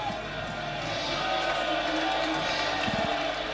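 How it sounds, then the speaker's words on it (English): Crowd cheering at a women's rugby match, Harlequins Ladies versus Saracens Women, as the referee walks out before kickoff; a broad, steady roar of voices and claps held at moderate distance throughout, with a commentator talking over it. "Some fantastically ironic cheers from the crowd as our referee"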